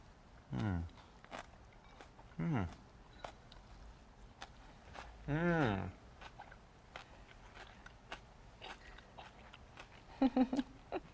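Crunchy salad with radish chewed close to the mouth, several distinct crisp crunching bursts spaced a few seconds apart, with quieter clicks and mouth sounds between and a final quick cluster of bites.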